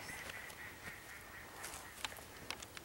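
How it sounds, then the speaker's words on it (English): Ducks calling at night near a game camera site, a faint, distant stream of honking and quacking cries scattered over steady background hiss, with a few sharper calls standing out. "Something's disturbing those ducks."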